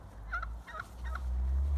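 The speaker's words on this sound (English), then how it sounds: "And turkeys making lots of noise." Several turkeys gobble in a barnyard, three bursts of rattling calls over a steady low outdoor rumble, fairly close and moderately loud with no talking.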